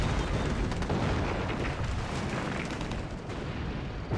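Tank cannons firing in a battle in the Axis and Allies (2004) strategy video game, a dense continuous barrage of loud booms and rumbling blasts overlapping throughout, no talking.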